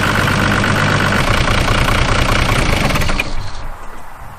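A Toyota HJ61 diesel engine idles steadily after a turbo replacement, a loud, close, continuous rumble with a steady knocking texture that drops off sharply near the end as the engine is shut down.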